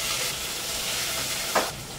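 Onion and curry leaves hit hot oil after a cumin and mustard seed tempering, making a loud, steady sizzle and hiss close up. A brief stirring scrape comes near the end.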